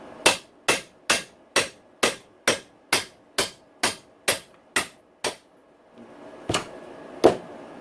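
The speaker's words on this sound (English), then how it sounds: "hit the bearing out with a hammer" Sharp metallic hammer blows on a socket drive a bearing out of a Honda CRF450R motorcycle engine, ringing in a fast, even series of about a dozen strikes, then pausing and finishing with two slower hits.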